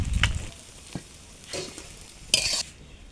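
Green chilies, five-spice and bay leaves added to oil left from frying fish, several quick stirring scrapes and short sizzling bursts between quiet gaps.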